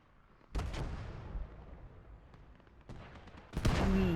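Tank gun shots and artillery fire in the Gates of Hell war game during a tank rush: a sharp, heavy boom followed by a long rumbling decay, a softer distant blast, then another loud close shot.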